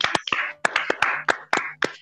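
Hand clapping during a video call, a handful of sharp separate claps in an uneven pattern, close and fairly loud, with faint voices between them.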